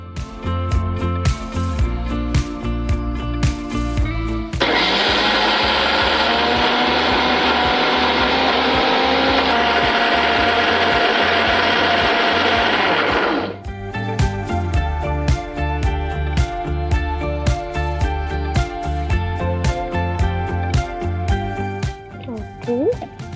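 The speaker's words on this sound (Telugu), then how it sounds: "మిక్సీ పట్టిద్దాం." A mixer grinder grinds soaked chana dal with peppercorns, a loud steady motor whir of about nine seconds between stretches of kitchen clatter and talk.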